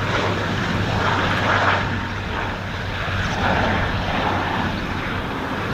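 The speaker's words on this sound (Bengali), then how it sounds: "বিমানটি ল্যান্ড করতে যাচ্ছে।" A Biman Bangladesh Airlines Dash 8 Q400 turboprop airliner approaching to land, its engine and propeller drone loud and steady throughout, with no voices over it.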